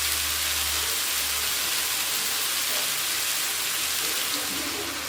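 Fish tikka frying in a pan, with a steady, dense hiss and sizzle that holds even and fairly loud throughout, close by, with no talking.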